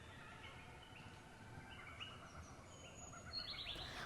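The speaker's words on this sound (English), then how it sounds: "There's nothing quite beats being in the middle of the bush and just being surrounded by birdsong" Native birds in the Tasmanian bush chirp and call faintly in the distance, a few thin high tweets over a steady low outdoor hiss.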